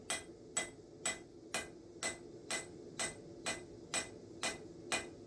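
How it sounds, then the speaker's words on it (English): Hammer blows on an anvil while forging a Revolutionary War bayonet ring out as about eleven sharp, evenly spaced metallic strikes at a steady rhythm, close and clear, with no speech. "Nice even hammer blows"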